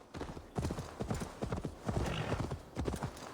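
Horse hooves clip-clop in a steady, fairly loud rhythm as a rider passes by in Assassin's Creed Valhalla, with the footfalls coming in quick uneven clusters.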